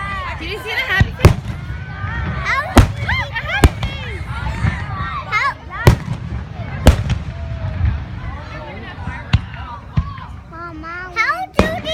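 Fireworks rockets going off outdoors at a display, with sharp booms and crackling bursts at irregular intervals, some loud and near, others distant, under a crowd's chatter and excited children's voices.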